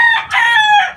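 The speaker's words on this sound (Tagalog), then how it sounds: "Gandang manok din." A single rooster crows once, close and loud, a short bright call with a brief break partway through.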